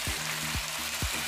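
Pork added to a hot pan to fry with oil, giving a steady close sizzle with a few soft stirring scrapes.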